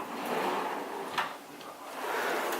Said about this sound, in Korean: 여기는 침대 밑에 있는 또 서랍인데